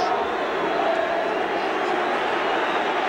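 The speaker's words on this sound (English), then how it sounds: "The booing won't put him off." A large football crowd at a 1980/81 Everton match keeps up a steady, dense roar of booing throughout, loud and unbroken, like a distant mass of voices filling a stadium.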